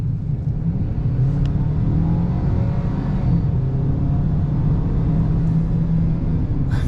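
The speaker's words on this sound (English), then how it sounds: "You can hear the blow-off valve." A 2025 Ford Maverick XLT in sport mode accelerates hard, its engine a steady, loud low rumble and whir throughout, with a short hissy release near the start and again at the very end.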